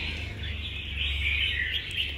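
A shy songbird caged close to people calls with a steady high chirping warble held over low background hum, recorded on a phone at close range.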